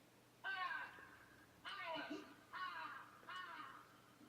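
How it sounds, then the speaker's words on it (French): Four loud, harsh crow caws in a row, each about a second long with short gaps between, sounding close over a quiet background. "Corbeau."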